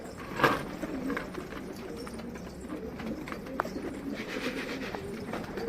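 Racing flight pigeons coo and shuffle inside a crowded loft holding around four hundred birds, with soft, low calls repeating close by over steady rustling and a few sharper wing or foot sounds.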